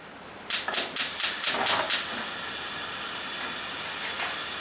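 Oil fries gently in a pan on a cooker, giving off a steady broadband sizzle and hiss. About seven sharp, rhythmic clacks come first, then the sizzle carries on evenly, with no one speaking.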